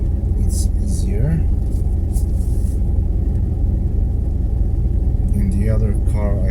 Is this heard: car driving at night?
yes